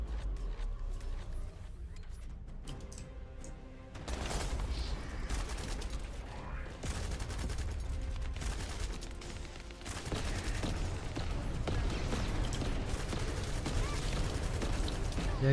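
Steady automatic gunfire from weapons in The First Descendant, a looter shooter, keeps up through a boss fight, mixed with mechanical clanks and game effects and fading lower in the mix at times.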